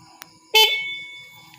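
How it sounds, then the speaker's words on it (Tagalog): A single loud, close motorcycle horn honk sounds abruptly, then its bright tone lingers and fades away, with no one talking. "malakas din yung busina"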